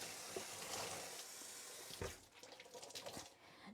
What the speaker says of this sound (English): Come on, back to the sink. We'll rinse out this cloth.